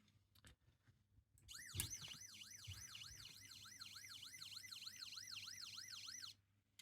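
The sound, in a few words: toy Matchbox New York City EMS ambulance siren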